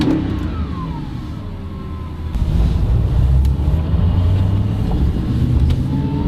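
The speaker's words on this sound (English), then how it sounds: "when you start it up you get the big V8 grumble" Audi R8 supercar with a V8 engine grumbling as it pulls away, a steady low rumble that swells and grows louder partway through, close and continuous with no talking.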